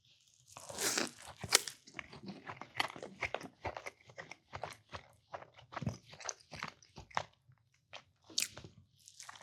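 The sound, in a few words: eating a sausage breakfast taco, biting and chewing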